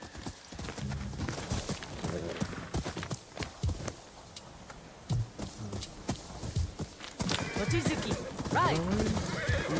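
Horse hooves clip-clopping at a walk with a clear neigh near the end, from a horse in the video game Ghost of Yotei, close and rhythmic, with brief talk over it.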